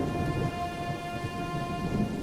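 Heavy rain pours steadily in a cartoon storm, a dense hiss with low rumbling thunder rolling beneath it, loud and constant throughout.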